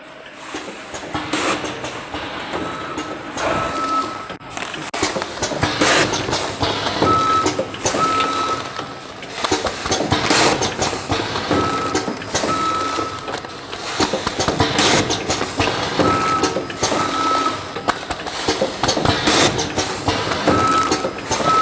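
An automatic packing machine for chopped walnuts runs steadily and loudly, with continuous mechanical clatter, rhythmic thumping and repeated high electronic beeps throughout.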